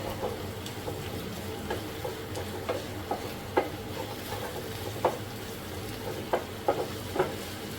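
Prawn pepper masala sautéing in a pan gives a constant close sizzle, punctuated by regular scraping taps of a spatula stirring roughly every half second.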